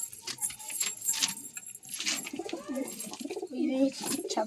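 Soft coos from a high-flyer pigeon repeat near the end, close by, with light rustling and jingling noises earlier in the clip.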